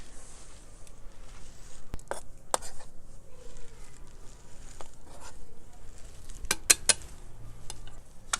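A knife chops vegetables on a cutting board in scattered sharp taps, some single and some in quick bunches, over a quiet kitchen background.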